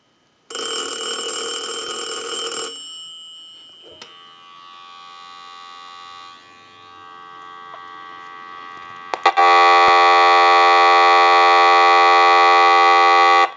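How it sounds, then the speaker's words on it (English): Steady electronic dial tone from a telephone line analyzer used on a French-style rotary telephone, loud and continuous, with a quieter hum in the middle before it returns at full volume. "I'll let it go one more time and we'll give you some dial tone."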